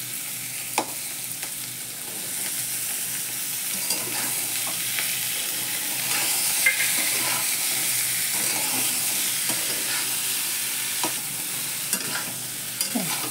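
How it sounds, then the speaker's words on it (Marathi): Boiled peanut usal sautéing in a pan, a steady close sizzle and hiss with occasional scraping stirs of a spoon against the pan, no talk. "उसळ परतून घेतली."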